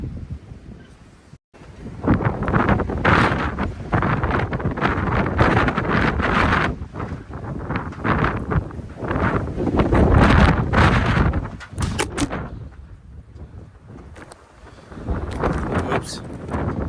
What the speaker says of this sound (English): Guess we had a wind gust over 30.